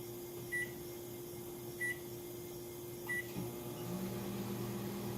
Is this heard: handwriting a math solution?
no